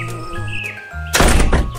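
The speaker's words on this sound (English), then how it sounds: "closed his door with a bang" The door of a wooden house in a children's bedtime story bangs shut, a loud close thump following soft sliding and creaking sounds, with faint chirping tones underneath and no talk.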